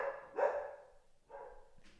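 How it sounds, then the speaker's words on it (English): A dog at a house barks a warning at someone arriving on the property: two sharp barks from a moderate distance, about a second apart, with no talk over them. "There's somebody coming on our premise, so the dog is now warning us."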